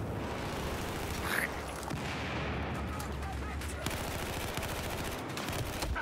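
Bursts of rapid gunfire and scattered shots crackle through a video game firefight, dense automatic fire layered over a constant background rumble, with no talk during the shooting.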